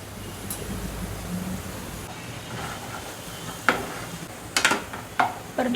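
Onion, green chili and ginger-garlic paste sauté in oil with a steady, moderate sizzle, broken by a few sharp clinks and scrapes of a spoon toward the end.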